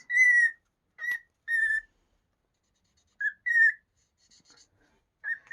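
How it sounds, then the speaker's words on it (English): A person whistles a tune in clear, sustained notes, pausing between short phrases, close and alone with no talking. "Now this is me whistling."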